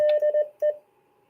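A quick, clear Morse code tone beeps one long and two short, a brief gap, then one more short beep.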